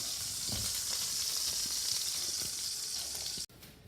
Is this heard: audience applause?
no